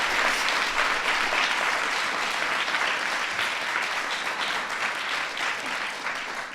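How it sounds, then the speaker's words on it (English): An audience at the 2014 Kids' State Dinner bursts into sustained, dense applause that stays loud and even, then tapers slightly near the end. "let's give Braden a big round of applause for that."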